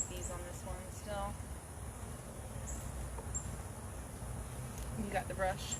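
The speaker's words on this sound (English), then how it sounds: "There's lots of bees on this one still." Honey bees buzzing around an open hive, a steady close-up hum with insect whine over a low rumble, with people talking nearby.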